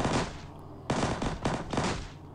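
Bursts of automatic gunfire in the zombie shooter game Zombie Forest HD, loud close volleys separated by brief gaps, one long burst followed by several short rapid ones.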